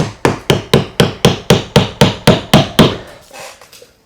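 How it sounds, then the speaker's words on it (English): Hammer blows drive nails into timber fascia on a garden room flat roof, about a dozen loud, sharp, evenly spaced whacks at a steady rhythm, then quieter rustling as the striking stops. "So I'm always going to nail it into them."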